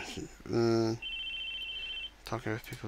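A cell phone rings in the visual novel game ChäoS;HEAd, a short electronic tone burst followed by a long thin beep, between stretches of spoken dialogue.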